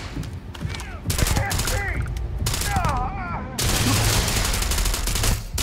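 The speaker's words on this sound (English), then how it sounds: "It does not shoot very far" Close-range gun firing in Starfield during close-quarters combat, bursts of loud shots in several clusters with creature-like squeals and game effects in between, someone talking over part of it.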